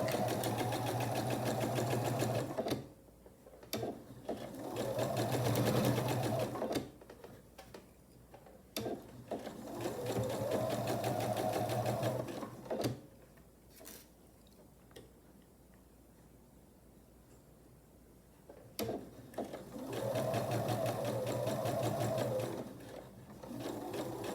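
A sewing machine stitches the seams of a 12.5-inch sailboat quilt block, running in several steady, whirring bursts of a few seconds each, separated by quiet pauses, close and clear with no voices.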